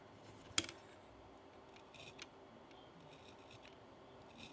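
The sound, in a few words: cutting a small square of masking tape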